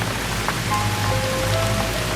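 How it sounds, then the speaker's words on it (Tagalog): Rain drips and patters steadily on the roof of a tricycle parked on a quiet street, a dense, even wash of drops with no voices. "ang tanging tunog ay ang pagtulo ng ulan sa bubong ng tricycle"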